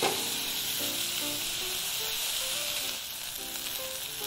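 A medium red onion and four cloves of chopped garlic sizzle in butter in a pan. The hiss is loud and continuous, with occasional stirring and no talk.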